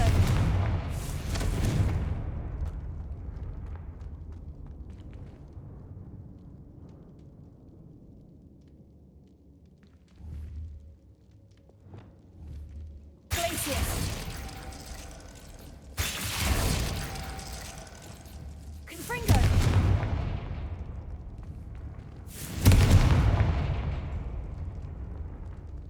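Confringo explosive spells go off in Hogwarts Legacy: after a quieter mechanical rumble, four loud booming blasts land a few seconds apart, each with a roaring decay.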